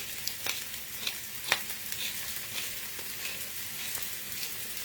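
Mushrooms and shallots sauté in olive oil in a pan, giving a steady close-up sizzle and crackle with occasional sharper pops and stirring clicks, with no voices.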